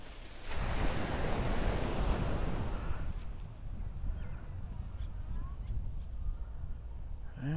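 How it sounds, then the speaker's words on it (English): Surf rolls onto a long, wide beach in Thailand, a steady broad wash of breaking waves heard from nearby, with some wind buffeting the microphone and no talk. "This is the biggest and longest beach I've seen."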